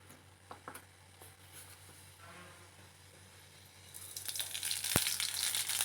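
Mustard seeds and asafoetida sizzle in a few spoonfuls of hot oil, a soft steady fry that swells suddenly louder and crackles near the end, with a sharp pop partway through.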